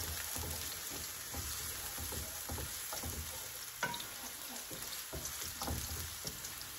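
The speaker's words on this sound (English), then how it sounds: "When you hear that sizzle, that's how you know the oil is hot enough." Close, steady sizzle of onions frying in hot oil, with crackling pops and light stirring scrapes throughout.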